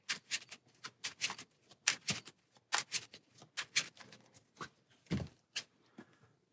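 Playing cards shuffled during a tabletop session of the Marvel Champions card game, a series of quick riffling and snapping bursts in an irregular rhythm, close and fairly quiet, with no talk.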